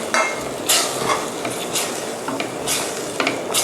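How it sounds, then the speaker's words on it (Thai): Pineapple and mussel coconut curry is stirred in a pot, a busy run of scraping and knocking of a spoon against the pot over a steady bubbling wash, close up and fairly loud. "เดี๋ยวคนให้เข้ากันสักเล็กน้อยนะคะ"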